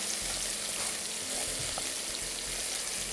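Onions fry in a pan with a soft, steady sizzle and occasional stirring, quiet and continuous throughout.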